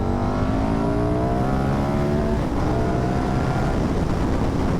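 A 2008 KTM RC8 V-twin motorcycle engine revs hard and steadily, its pitch climbing in smooth rising sweeps, loud and close throughout with no voices.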